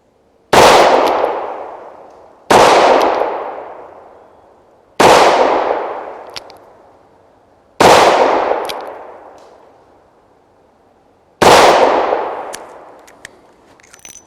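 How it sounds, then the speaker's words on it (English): A Taurus Ultralite lightweight revolver firing .38 Special rounds outdoors, five loud, sharp single shots spaced about two to three seconds apart, each with a long decaying echo. "being an ultralight, it is a lightweight revolver, so a little bit of a recoil on it with those 38 special loads"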